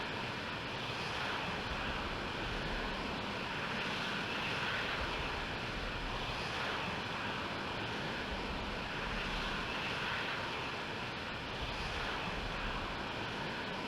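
Jet engines of an F-C Block 50 fighter spool up for takeoff in the Falcon 4 Allied Force flight simulator, a steady, loud, broadband roar that holds constant throughout with no talk.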